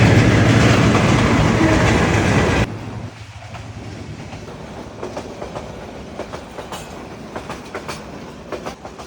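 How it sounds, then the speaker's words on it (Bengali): Train passing near a rural market at Basudebpur: a loud, close roar of rolling wagons that cuts off abruptly, followed by quieter clickety-clack wheel beats fading as the train moves away. "এই যে একটা ট্রেনও চলে আসছে এই মুহূর্তে।"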